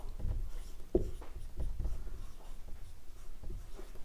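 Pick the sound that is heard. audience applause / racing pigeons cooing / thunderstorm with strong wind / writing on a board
writing on a board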